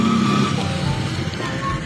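An Iranian-made car drives through Kabul streets, its engine a steady close hum with road noise and a brief higher whine early on, with no talking.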